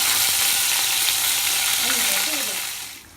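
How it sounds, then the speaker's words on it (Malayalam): Ginger garlic paste sizzles loudly in hot oil with crackling mustard seeds, a close, steady frying hiss that fades out toward the end, with no talking. "ഞാൻ അതിനകത്ത് 2 സ്പൂൺ എണ്ണ ഒഴിച്ച് കടുക് പൊട്ടി നമ്മൾ ഇഞ്ചിയും വെളുത്തുള്ളി പേസ്റ്റ് ചേർക്കുവാണ്"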